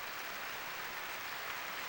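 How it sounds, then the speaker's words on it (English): Applause from a concert hall audience at Avery Fisher Hall, Lincoln Center, after the New York Philharmonic's performance of Dvorak's Cello Concerto in B minor, a steady dense wash of clapping throughout. "Mr. Ma applauds the players of the New York Philharmonic"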